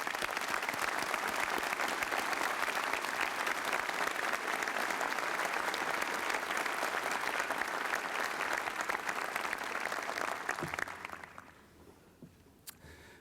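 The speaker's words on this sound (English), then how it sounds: "So please join me in applauding these exceptional teachers." A large audience applauds honored teachers at a 1995 university commencement, loud continuous clapping for about eleven seconds before it fades out, leaving a quieter hall.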